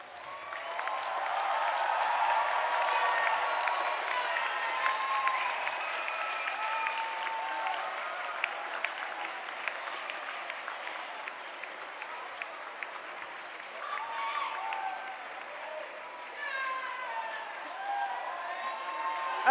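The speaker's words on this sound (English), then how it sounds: "applaud your family and friends." Graduates at an ArtCenter spring graduation ceremony applaud their families and friends: sustained, dense applause from a large crowd, with cheers and whistle-like whoops rising above it throughout.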